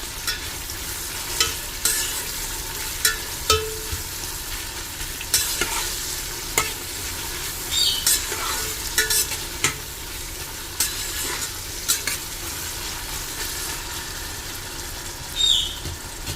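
Onions fry in oil until reddish, making a steady close sizzle broken by repeated scraping and clattering stirs of a spoon against the pan, with no voices.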